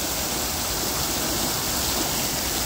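Running water from city fountains makes a steady, even rush and splash that fills the whole stretch close by, with no voices.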